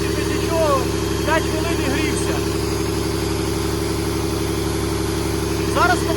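A gearbox runs idle with no load on a test stand, giving a steady, continuous mechanical hum and whine at constant level; someone talks briefly over it.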